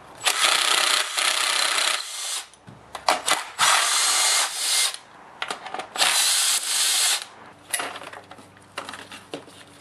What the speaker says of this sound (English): you need to remove the four T27 Torx screws that hold the recoil on